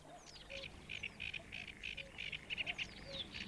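A bird sings a string of quick, bright, repeated notes in a steady rhythm, close and clear against faint background noise.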